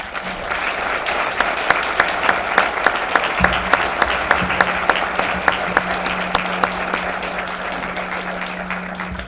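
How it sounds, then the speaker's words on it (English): Applause from a debate audience for mayoral candidates in Malvern: steady, moderately loud clapping from a small crowd, continuing evenly for several seconds with a low hum underneath. "I believe all 3 of them deserve a round of applause from all of us"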